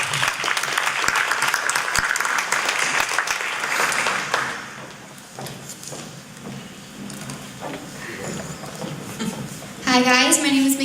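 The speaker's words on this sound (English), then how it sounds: "Let's get a round of applause." A crowd at a student startup competition gives a round of applause, with dense clapping at first that fades into scattered claps before a voice starts speaking near the end.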